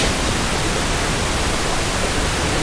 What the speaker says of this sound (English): they'll use pink noise to do that